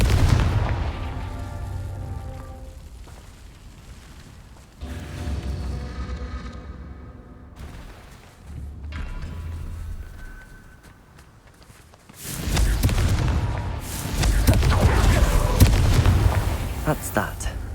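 Confringo and Bombarda spells blasting in Hogwarts Legacy: a couple of heavy booming impacts with rumbling tails, the loudest near the end, set among other game sounds and voices.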